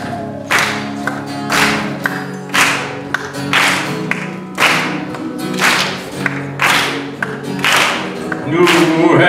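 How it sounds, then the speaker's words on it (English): Audience clapping along in rhythm to a live gospel performance of "Oh Happy Day", a steady string of loud, evenly spaced claps over the music with a faint crowd wash. "Guys, if the spirit moves you, get up, dance, clap your hands."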